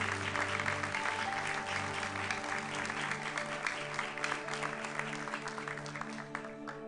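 A church congregation at a Methodist worship service applauds together, a steady wash of many hands clapping at moderate distance, with sustained music tones underneath and no speech.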